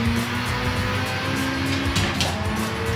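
A race car on racing slick tyres in Gran Turismo on PS5 drones with a steady engine note while its tyres squeal and slide as it loses grip and spins.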